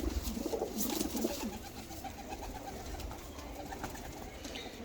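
Breeder pigeons coo steadily at close range in a loft, soft repeated throaty calls rising and falling over low background noise, with no talking.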